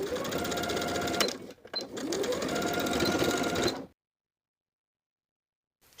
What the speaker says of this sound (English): top stitch the new folded edge with about a 1/4 inch seam allowance straight across